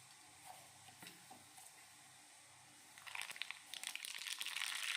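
Mustard seeds spluttering in hot oil in a small tempering ladle for a chutney, quiet crackles at first, then a loud, dense burst of popping and sizzling over the last two seconds.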